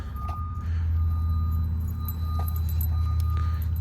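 A Redcat Ascent-18 RC crawler truck backing up, its small motor whirring steadily at close range with faint high whines and light clicks over the hum.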